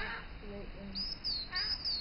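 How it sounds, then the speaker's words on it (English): Birds chirp outdoors in a few short, high, thin calls over a quiet background, with a faint low voice near the start. "You see the birds?"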